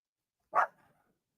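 A single loud bark from Rosie, a dog reacting to voices in the background, close by in a quiet podcast room with a brief trailing tail and no speech over it.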